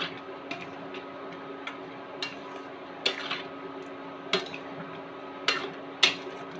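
A spoon stirs bread halwa in a metal pan, giving sparse, irregular clinks and taps against the pan over a steady low background, with a few sharper knocks toward the end and no talking.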